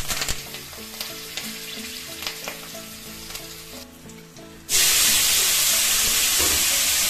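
Fenugreek seeds and two dried chillies hit hot oil for a leafy-greens curry, bursting into a loud, steady, close sizzle after a few seconds of softer clinks and background sounds.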